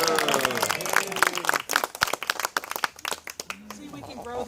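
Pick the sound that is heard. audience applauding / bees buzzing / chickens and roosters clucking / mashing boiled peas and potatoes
audience applauding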